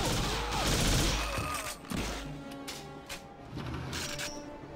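Loud shotgun blasts and crashing impacts in the video game TimeSplitters, a few heavy bangs followed by clattering and metallic clinks.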